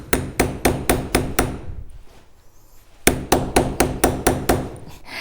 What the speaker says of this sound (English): So again, we're going to use the hammer.